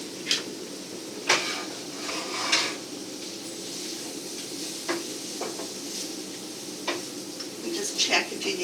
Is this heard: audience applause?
no